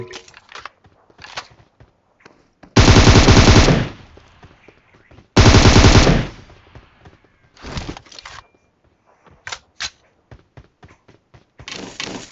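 Automatic gunfire in the mobile battle game PUBG Mobile: two long, loud sustained bursts, each lasting about a second, with scattered single shots and short clicks between them, close and without talk.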